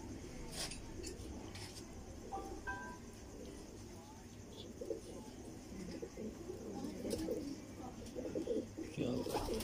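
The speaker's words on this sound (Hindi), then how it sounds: "सर ये मेरे वालद साहब के कबूतर हैं जी, पुराने।" Old pigeons in a loft coo in soft, low repeated calls amid background clatter of dishes and cutlery, with people talking nearby.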